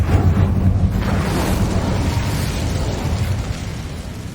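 The Incendio fire spell goes off in Hogwarts Legacy, a loud, sustained rumbling whoosh of flame with a heavy low roar that eases slightly toward the end.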